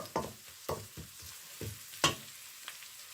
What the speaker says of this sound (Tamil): கருவேப்பிலையையும் அதோட போட்டு வதக்குங்கோ